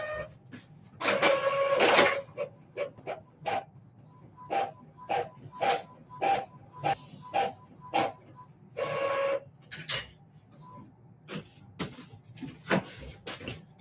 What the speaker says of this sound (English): don't run the printer while I'm doing a reading